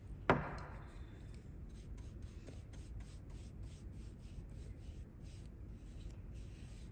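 A paintbrush smooths paint over wood with faint, close, steady brushing strokes, after one sharp tap at the start.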